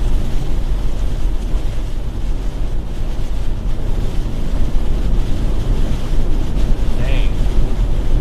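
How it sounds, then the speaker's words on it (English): Strong headwind from a tropical storm roars against the microphone in heavy, continuous low buffeting, loud and unbroken throughout, with a faint brief squeak near the end. "Impressive headwind here."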